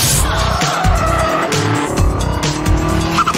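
The P2, a race car built from a Subaru R1 city car, is driven hard with its engine buzzing and tires squealing and skidding repeatedly, loud and close throughout.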